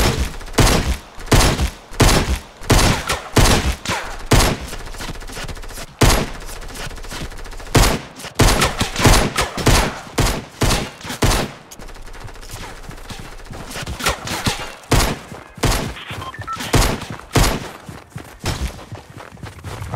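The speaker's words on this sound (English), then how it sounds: "whoever's shooting me" Gunfire in the video game Fortnite, heard as a long run of loud, sharp shots fired in quick bursts and rapid volleys, with a few short gaps between strings of fire.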